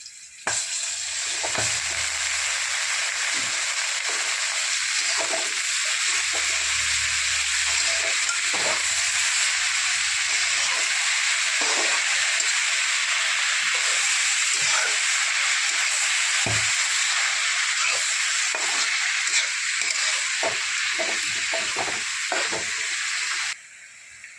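Safflower leaves are added to onion already fried until reddish, and the pan sizzles loudly and continuously for a long stretch. Occasional knocks and scrapes of stirring come through before it cuts off abruptly.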